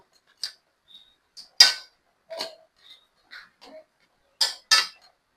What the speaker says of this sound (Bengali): লবণ দিয়ে একটু নাড়াচাড়া করে দিব